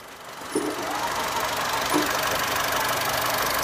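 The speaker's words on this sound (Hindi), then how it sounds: "कितनी ज़्यादा स्मूथ हो गया है इंजन" A Honda Amaze car engine idles steadily after a major service and clutch service, a continuous close, loud hum with no talking.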